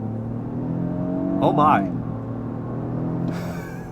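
A 2024 Lexus GX 550 pulling onto a highway in sport mode, heard from inside the cabin as a steady engine drone with rising tones, while a voice briefly exclaims partway through.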